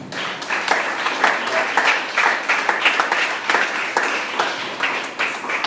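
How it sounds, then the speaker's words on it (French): Church congregation applauding together during a worship service, a dense continuous wash of clapping with rhythmic accents, steady and fairly loud throughout with no voices on top. "Applaudissons le Seigneur"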